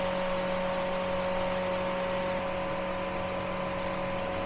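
An electric grinder whirs steadily while blending ingredients for a green vegetable kabab, a constant motor drone with a high steady hum and no talking.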